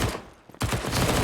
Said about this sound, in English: SMG bursting through